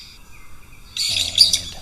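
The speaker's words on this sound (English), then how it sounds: "We have some more birds just squawking at each other, jostling for position at the water hole there" Birds at a water hole chirp and squawk briefly, a sudden burst of bright, close calls after a quieter moment.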